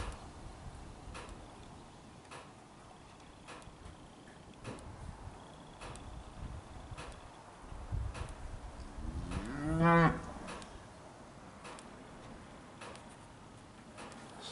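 Cattle on pasture with calves, a single moo rising out of a quiet outdoor background with faint rustling, sounding moderately close, followed by calm ambience.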